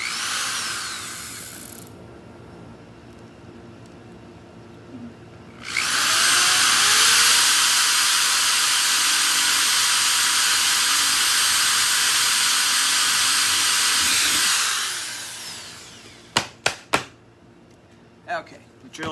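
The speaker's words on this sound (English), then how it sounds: "I'm done drilling for the night." A power drill bores holes in bead gel ornaments, whining steadily and loudly for about nine seconds before winding down, followed by a few sharp clicks and taps.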